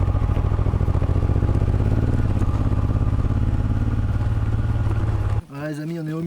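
Continuous loud motorcycle engine drone with rattling clatter as the bike rides a rough road on a Paris to Mongolia trip, close and steady, cutting off abruptly near the end as a voice begins talking.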